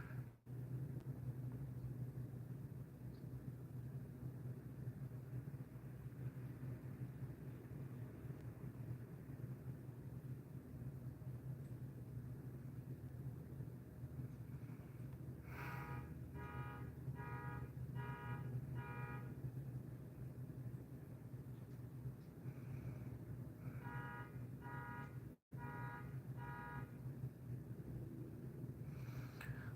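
A car alarm sounds in short repeating bursts of electronic tones, far off behind a steady low rumble of background noise, with two separate runs of beeps and no talk.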